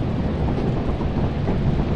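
Thunder from a lightning strike in the video game Lethal Company, a loud, continuous rumbling roar that fills the whole stretch without a break.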